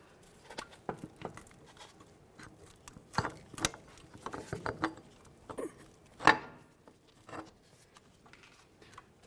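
Metallic clicks, knocks and scraping come from a rear driver-side CV axle being worked out of the wheel bearing on a 2002-2005 Ford Explorer, irregular bursts of close mechanical rattling with one louder clunk.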